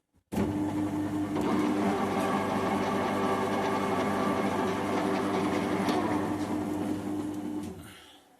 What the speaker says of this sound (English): So just checking the crank in the lathe.